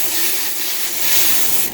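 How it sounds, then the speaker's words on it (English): Cooking spray hisses onto a casserole dish in one continuous close burst, loud and steady for under two seconds before cutting off. "I'm going to spray it down. Just a little cooking spray."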